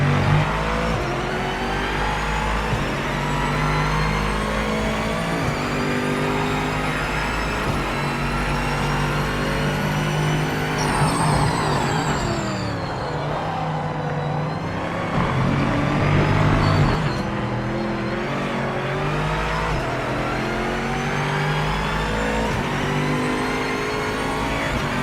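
Aston Martin Vantage GT3 race car with a V8 engine roars in a racing video game, sustained and loud, climbing and dropping through gear changes with a brief lull in the middle.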